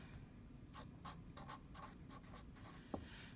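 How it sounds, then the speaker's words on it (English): Marker or chalk writing on a classroom board while working an algebra problem, a run of short scratchy strokes in bursts with brief pauses, close and fairly quiet, with no talking. "So I'm going to write them."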